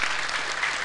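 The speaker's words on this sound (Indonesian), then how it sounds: "Tepuk tangan untuk Paman Birin, keren Paman." Crowd applause at an Indonesian religious talk, honoring Paman Birin: a brief, loud burst of many hands clapping together, dense and continuous for under a second.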